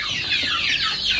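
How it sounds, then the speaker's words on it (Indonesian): Farmyard chickens at a village home cluck in a busy, overlapping chorus, close and fairly loud, with no talking. "di sini tuh banyak banget ayam."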